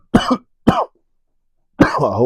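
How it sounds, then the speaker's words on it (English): Three harsh coughs, two quick ones close together, then a pause before a longer, raspier cough, loud and close with no talking. "Coughing happens sometimes."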